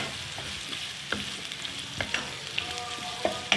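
Onions frying to light golden in a pan for anarkali biryani, a soft steady sizzle with occasional scrapes and clinks of stirring, close and fairly quiet with no talking.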